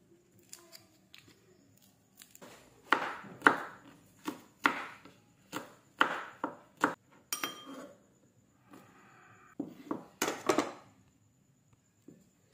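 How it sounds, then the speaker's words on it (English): Garlic being chopped with a knife on a cutting board, a quick run of sharp, close knocks in bursts with short pauses, no talking. "Chop the garlic."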